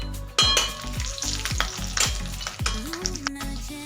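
Coconut and garlic roasting in hot oil for a Maharashtrian amti, a loud close sizzle broken by a quick series of sharp stirring knocks and scrapes.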